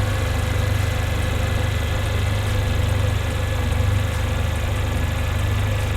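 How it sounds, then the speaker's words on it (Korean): A Mercedes-Benz A-Class W176 A45 AMG 4MATIC engine idles evenly and steadily up close, a low constant hum with a faint rhythmic throb and no speech. "엔진 소리 일정하네요."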